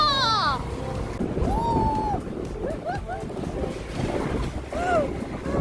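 Strong wind buffets the microphone on Phu Quy island as a small typhoon arrives after a morning of heavy rain, a rough, gusting low roar that rises and falls, with voices faintly heard over it.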